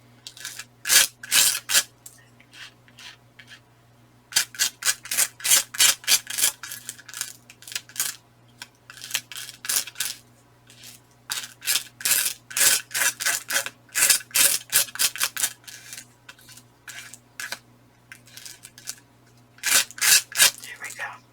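Bursts of scratchy scraping as a tool is dragged back and forth to push glitter into a cardstock scrapbook layout, rapid strokes in clusters with short pauses between, close up over a low steady hum.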